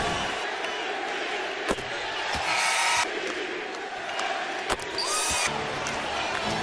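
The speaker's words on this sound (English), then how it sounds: "We'll let you listen to the crowd here at Staples as Kobe comes to the line" Crowd noise in the Staples Center during a Lakers–Jazz NBA game as Kobe Bryant goes to the free-throw line: a loud, sustained arena roar with bursts of cheering and a few sharp thumps.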